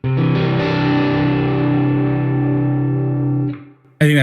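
Distorted electric guitar played through a Neural DSP Archetype Nolly X amp plugin with extra room ambience, a loud sustained chord ringing with a roomy tail, cut off abruptly before a brief burst at the end.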